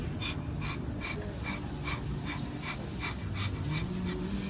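A person imitates a dog panting with quick, rhythmic, breathy huffs repeated steadily at close range, with no other voices.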